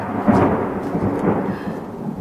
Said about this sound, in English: There's some thunder on our weather day.